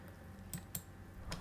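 Computer mouse clicking, a few sharp, quiet clicks spaced irregularly over a low, faint background hum.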